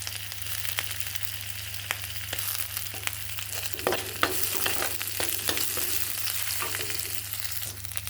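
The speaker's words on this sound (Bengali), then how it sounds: "এতে কটা কাঁচা লঙ্কা দিয়ে দিচ্ছি।" Green chillies and grated ginger paste frying in oil for a Bengali shukto, a steady close sizzle with repeated spoon scrapes and stirring knocks through the middle, no talk.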